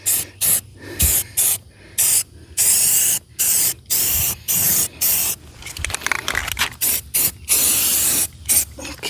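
Spray paint applied in light coats to a window during a horse barn window rehab: a series of about a dozen short, sharp hissing bursts separated by brief pauses, close and loud.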